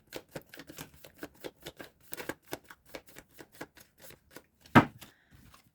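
Tarot cards are shuffled by hand in a quick, steady run of crisp riffling taps, close and fairly quiet, ending with one sharper, louder slap before a brief pause.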